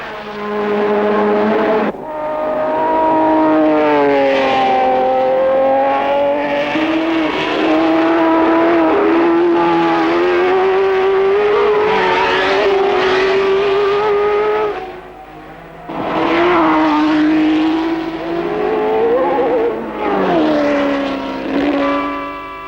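1967 Formula 1 race cars at the Nordschleife roar past one after another with loud, high, rising engine wails that swell and fade with Doppler sweeps, continuous and near, with no talking.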